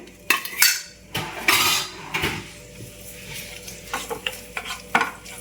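Chopped ginger and garlic fry in a spoonful of oil for chilli chicken, with soft sizzling under loud irregular clinks and scrapes of a spoon against the pan, close up and without speech.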